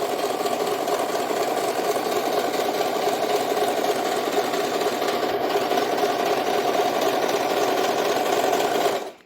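A household NCC Sew Cooky CC-5505 overlock sewing machine with a new original motor runs continuously at high speed with a steady, dense mechanical whir, loud and close, stopping abruptly at the end.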